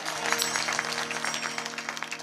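Audience at a Marathi kirtan claps steadily for the mridang player, a continuous dense patter of hands under a faint sustained tonal hum, moderately loud and unbroken.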